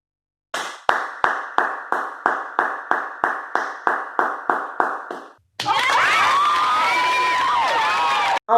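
An audience claps in slow, evenly spaced strokes, about a dozen sharp claps, then breaks into a sustained wash of crowd cheering and shouting.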